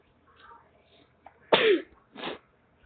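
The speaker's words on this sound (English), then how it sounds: "Sorry, I had to sneeze." A single sharp sneeze, close and loud, with a faint breathy intake before it and a softer sound just after.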